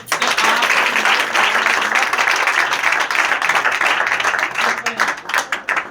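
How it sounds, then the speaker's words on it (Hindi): A church congregation claps together in steady, dense applause that stays loud throughout, thinning into separate claps near the end. "तो खुदा के जलाल के लिए तालियां बजाएं"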